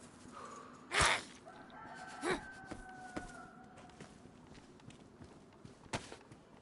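Chicken in the survival game DayZ, heard as a few brief clucks and squawks at a distance, scattered over a faint outdoor ambience with a couple of sharper sounds.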